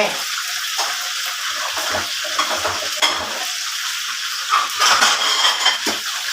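Chicken liver fries in hot oil with a steady, loud hiss and crackle, and a utensil stirs it in the pan. Occasional bubbling surges come through, and a voice is heard faintly.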